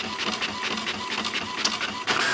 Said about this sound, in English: here they come hot off the printer